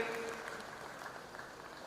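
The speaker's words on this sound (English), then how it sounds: "give them a big applause" Applause from an audience at a freshers' induction program, a soft, even wash of clapping heard from some distance, steady throughout without distinct individual claps.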